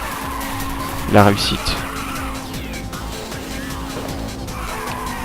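Racing cars in the Ridge Racer 2 video game, with a sharp tyre-squeal skid burst early on over a steady engine drone, while someone talks over the game sounds.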